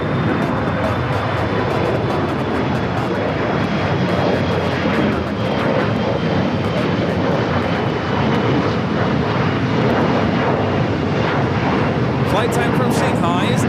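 An ITA Airways jet in special livery on runway 25 right at Los Angeles airport gives a loud, steady engine roar with a thin high whine. The sound continues without a break for the whole stretch.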